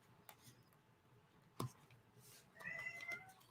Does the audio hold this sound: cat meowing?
yes